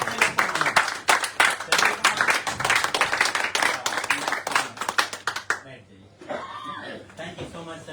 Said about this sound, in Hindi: सर जी के लिए जोरदार ताली आप लोग।